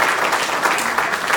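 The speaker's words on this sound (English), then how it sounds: "I think that deserves a round of applause." A conference audience at a PagerDuty event in Sydney breaks into a short burst of steady, dense clapping, fairly close and alone.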